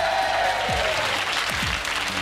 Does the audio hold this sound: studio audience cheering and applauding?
yes